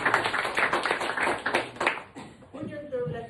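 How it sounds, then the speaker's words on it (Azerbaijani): An audience claps for Muay Thai athletes at an event, a brisk patter of hands close by that swells, then thins and fades while a voice talks over it. "Gəlin Muay Thai'çıların hamısına bir alqış deyək"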